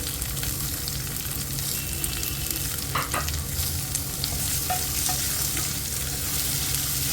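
Crushed garlic and three sliced onions fry in a pan for a Kerala egg roast, a loud continuous sizzle with a few brief scraping stirs near the middle, close up.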